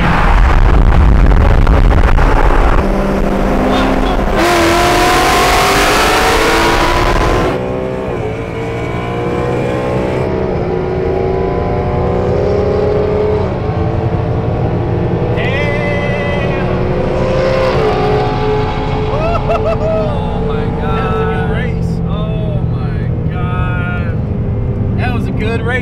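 Cars including a BMW 340 and a Mustang rev and roar loudly as they accelerate hard in a street race in Mexico, with shifting engine pitch and a burst of high-pitched noise partway through, continuous and close.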